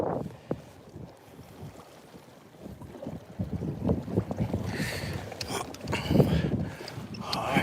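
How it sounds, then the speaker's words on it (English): Wind gusts buffet the microphone on a fishing boat out on Lake Lanier, a rumbling rush that starts low and swells louder in the latter half, with faint water and boat noises and no talking. "We have a little bit of wind today"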